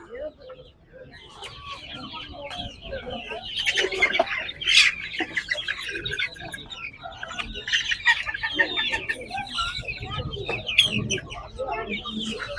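Native pullets at a Peruvallur poultry market, with busy overlapping clucks and bird chatter throughout and occasional voices underneath.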